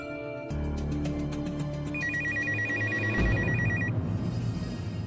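A telephone rings indoors with a bright electronic ringtone, a repeating warbling tone over a dramatic musical swell, loud and continuous without any talk.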